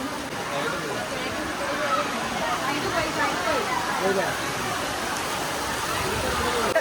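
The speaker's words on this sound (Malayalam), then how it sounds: "ഇതുവരെ മഴ നില്ലാതെ പെട്ടെന്ന് നല്ലൊരു കാറ്റും മഴ കേട്ടോ" Steady heavy rain hisses continuously at a school, with a broad rushing wash of wind, and voices murmur faintly underneath.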